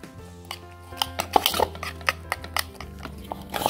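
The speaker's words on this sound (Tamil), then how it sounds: "பட்டர் ஆட் பண்ணி அதை நல்லா mix பண்ணிக்கலாம்." Butter being mixed in a bowl for homemade butter biscuits, with a series of light clinks and scrapes of a utensil against the bowl, close and irregular, over a low steady background hum.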